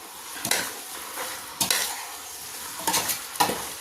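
Curry leaves being stirred into a thick beef curry in a sizzling pan, four distinct scraping stirs spaced about a second apart over a low bubbling hiss, close and fairly loud, no talking.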